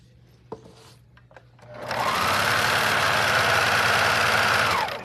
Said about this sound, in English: And we'll do some chain stitching here.